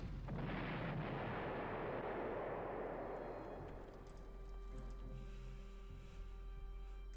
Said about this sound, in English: That's some big-ass artillery you got there.